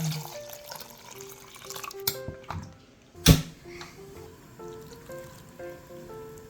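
Braised tofu with vegetables, garlic, chili flakes and water simmers in a pot, giving a soft, steady bubbling and burbling, with a brief sharp clatter partway through.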